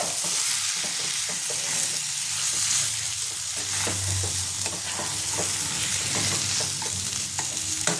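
Chopped chicken stomach stir-fried in oil in a pan, loud continuous sizzling with frequent spatula scrapes and stirring clatter throughout, close up and without speech.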